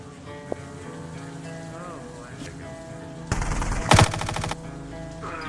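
Machine gun fire in a video game crackles as a couple of loud bursts in the middle, heard over a steady background rumble.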